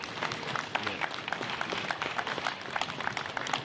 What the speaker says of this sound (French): Un applaudissement à Toto